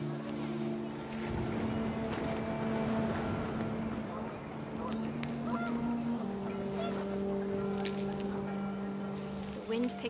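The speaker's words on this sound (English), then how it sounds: "The wind picked up and panicked geese appeared and quickly went." Panicked geese honking in the video game What Remains of Edith Finch, a flock's overlapping honks over steady wind and a low drone, with a voice talking across them.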